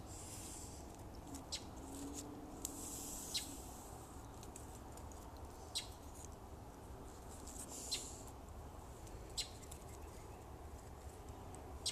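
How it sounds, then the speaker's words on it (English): A small bird gives sharp, brief chip calls at irregular intervals, faint and distant over a steady background hiss. "we have a chippy bird in the background"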